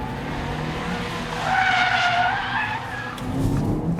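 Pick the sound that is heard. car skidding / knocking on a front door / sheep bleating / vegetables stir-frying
car skidding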